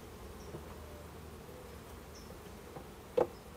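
Honey bees buzzing around an apiary hive during an inspection, a faint, steady low drone with a few closer passes and a brief sharp knock near the end.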